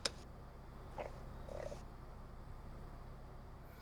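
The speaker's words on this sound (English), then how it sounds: "I thought you heard the cat." A cat purrs with a low, soft, continuous rumble, faint against a quiet room background, with a brief click at the start.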